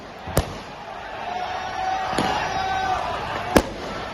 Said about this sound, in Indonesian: Aksi ini dibalas dengan lemparan kembang api dari pendemo.